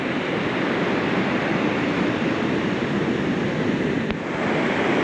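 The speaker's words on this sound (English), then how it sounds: "It's nice to hear the waves though." Steady roar of ocean waves and surf at Bolon Island, continuous and full, with no voices.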